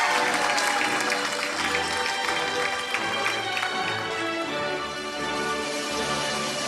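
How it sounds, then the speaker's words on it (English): Graduation ceremony applause, a sustained wash of many hands clapping from a large audience, moderately distant and mixed with background music. "Give her a big round of applause."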